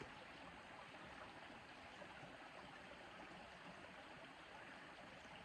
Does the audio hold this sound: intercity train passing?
no